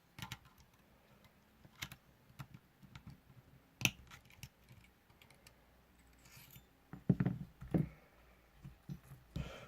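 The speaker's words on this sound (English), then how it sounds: "When you snip those wires, be careful not to snip the other coils." Coil wires being snipped with small cutters during assembly of an AIM-9 EVO model kit, a few sharp clicks and snaps scattered among quiet handling noises, close and fairly soft.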